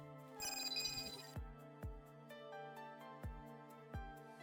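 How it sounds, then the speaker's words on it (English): A communicator terminal rings in the Girls Frontline 2 game, starting with a bright electronic tone burst followed by steady ringing. Soft low thumps land at regular intervals underneath. "Belka's communicator terminal starting ringing at the untimely moment."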